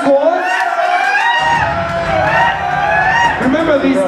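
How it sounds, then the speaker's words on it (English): A crowd at a ballroom competition ball erupts in cheering, whoops and shouts layered over clapping, with loud voices throughout. "Give this man a round of applause"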